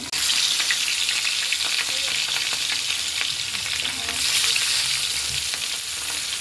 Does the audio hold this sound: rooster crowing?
no